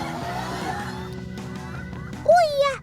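An ayam ketawa, the Indonesian laughing chicken, lets out a long, warbling crow with a wavering, bent pitch, loud and close near the end of the clip, following a stretch of busy background sound.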